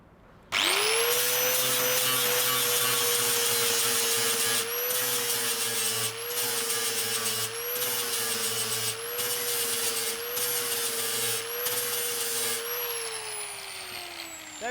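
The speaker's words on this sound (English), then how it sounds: "But we'll just grind that down, and that should be that filled." Air-powered grinder sanding down body filler during car dent repair, a steady high-pitched whine running continuously for about fourteen seconds, briefly dipping as it bears on the panel.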